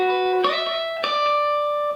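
On electric guitar, two notes are played together and left to ring. Two clear picked onsets sustain and overlap as bright, steady tones, alone and up close.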